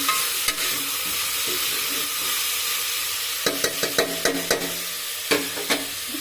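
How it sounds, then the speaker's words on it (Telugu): A spoon scrapes and stirs through food in a pot as Aachi biryani masala is mixed in over steady frying sizzle, with sharp clustered scrapes coming in the second half. "ఇది వేసి బాగా కలుపుకుంటున్నాను"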